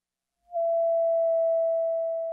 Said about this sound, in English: a nice sine wave oscillation